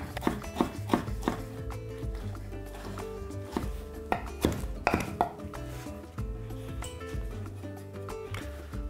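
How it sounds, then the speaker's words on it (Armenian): Knife chopping food into sticks for a layered puff-pastry pie filling, with repeated sharp knocks on a board in irregular bursts alongside clinks of utensils and dishes, close and fairly quiet. "կտրատում ենք ձողիկաձև։"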